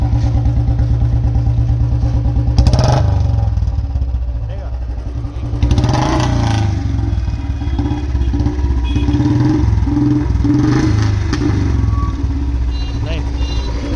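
Royal Enfield Classic 350 motorcycle with an L-bend exhaust pipe idling with a deep, heavy thump, rising in brief revs near the start and middle, loud and close with people talking over it.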